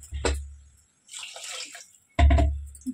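Water pours into a pot of mutton curry in two splashy bursts with a short pause between, close and fairly loud.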